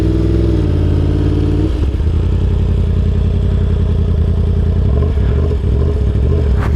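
Yamaha R1 sport bike riding through an S-turn on a training course, a loud close engine that drops from a steady high drone into rumbling throttle changes with wind buffeting.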